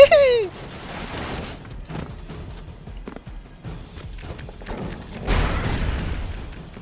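Bursts of muffled booms and crackling blasts from the video game Broforce, with a loud rumbling explosion near the end and brief noisy clatter throughout.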